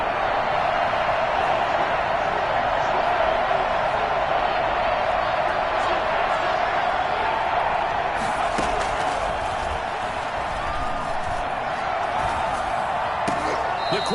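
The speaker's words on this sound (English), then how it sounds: "The crowd getting into it as we come up on a big 3rd down." Stadium crowd noise at a Washington vs 49ers divisional-round NFL playoff game, a steady loud roar building ahead of a big third down, with a few sharp bangs and claps near the end.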